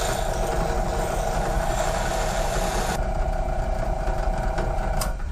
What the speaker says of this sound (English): But what I do is simply just round off the edges with the drum sander.